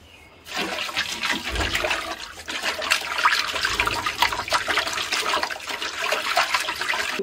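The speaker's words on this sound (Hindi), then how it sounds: "इसको खुला बर्तन में और ज्यादा पानी में धोना है।" Noni greens washed by hand in an open pot filled with plenty of water, a steady sloshing and splashing that stays loud and close from start to finish with no voices.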